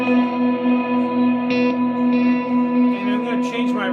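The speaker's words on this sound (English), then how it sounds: "I'm going to put a tape delay." Sustained guitar tones ring out through a Disaster Area DMC-8d tape delay effect, echoing repeats trailing behind each note, a smeared delay tail building as new notes are struck.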